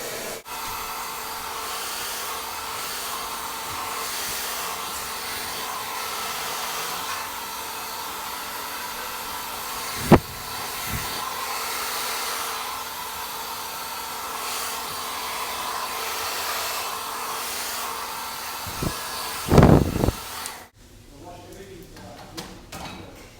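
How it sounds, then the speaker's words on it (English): A hair dryer blows through hair being styled with a brush, giving a steady whirring roar with a few knocks and rustles before it cuts off abruptly near the end. A voice talks over it. "So with just a brush and some quick blow drying techniques"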